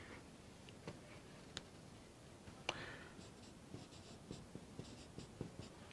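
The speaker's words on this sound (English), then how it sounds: "let me write it clearly." Pen on paper or board, a steady scratchy scribble of handwriting with small taps and clicks between strokes, close and quiet in an otherwise still room.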